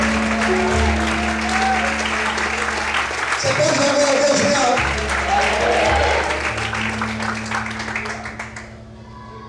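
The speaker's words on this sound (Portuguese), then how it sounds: "glorifique e aplauda o Senhor nessa noite" Congregation clapping in a church service: a broad, sustained burst of many hands applauding while a voice speaks over it, the crowd noise thinning out and fading toward the end.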